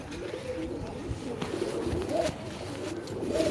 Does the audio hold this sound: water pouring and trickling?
no